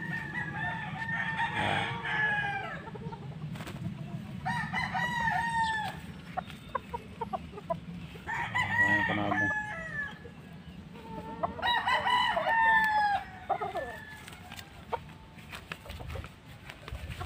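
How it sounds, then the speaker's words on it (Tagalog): Fighting roosters crow several times at moderate distance, with clucking hens and a low background rumble between the calls. "Maraming mga panabong dito"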